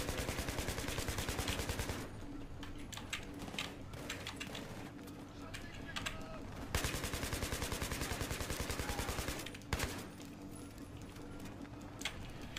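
Rapid automatic gunfire from the Battlefield 3 shooter game rattles in long bursts with short pauses, staying fairly faint and steady throughout while a voice speaks intermittently over it.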